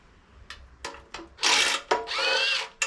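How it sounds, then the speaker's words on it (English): A small Snap-on impact gun spins bolts out, with short whirring bursts and clicks followed by two longer loud runs, close up and with no talk. "I have a little snap-on gun here."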